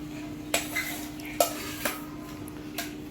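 Vegetable mixture being stirred in a pan with a spoon, giving scattered scraping clinks at an irregular pace over a faint steady hum, with no voices.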